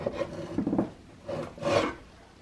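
Wood is scraped by hand along the barrel channel of a Tennessee iron-mounted flintlock squirrel rifle stock, in several short, rasping strokes, close and fairly quiet with no talking.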